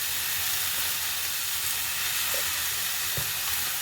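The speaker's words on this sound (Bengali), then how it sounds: "আমি আলুগুলো দিয়ে বেশ কিছুক্ষণ নাড়বো।" Potatoes stir and fry in a pan, giving a steady close sizzle and hiss with a few soft scrapes of the spoon, no voices.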